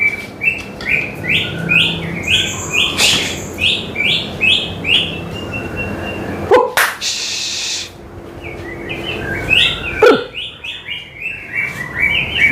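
A murai, a magpie-robin, sings at a bird kiosk, giving rapid repeated chirping phrases with varied whistles and a few sharp calls, close and clear over faint background noise.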